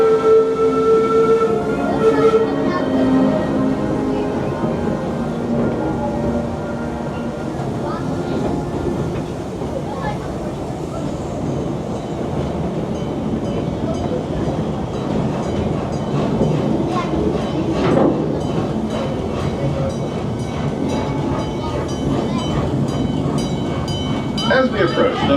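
The Busch Gardens railway steam train Balmoral Castle #661 rolls along its track on a park roundtrip, a steady loud rumble with rhythmic clacking and a brief whistle-like tone early on, under a recorded announcement voice throughout.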